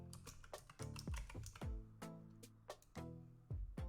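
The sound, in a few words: typing a password on a computer keyboard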